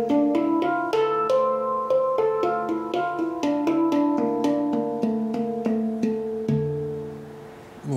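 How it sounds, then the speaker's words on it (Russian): Space drum, a steel tongue drum, played in a scale running up and then back down, with each struck note ringing out bell-like and overlapping with the next in an even rhythm, close and alone. "And then a scale that goes up and down the instrument."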